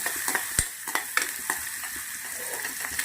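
Garlic and fried potato starter pieces sizzle steadily in oil while a spoon scrapes and taps the pan in irregular close strokes.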